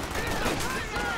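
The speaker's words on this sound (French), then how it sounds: "Regarde la grenade, PP." Gunfire and a grenade blast from Company of Heroes 2, a World War II strategy game: dense, continuous battle noise of rapid shots and explosions, loud throughout, with players talking over it.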